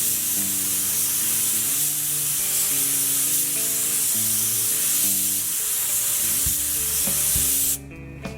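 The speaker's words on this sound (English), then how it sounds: "I'm ready to spray the test panel with our tri-stage paint" A loud, continuous hiss of a paint spray gun applying tri-stage paint to a test panel runs almost the whole time over a low compressor drone, then cuts off abruptly near the end.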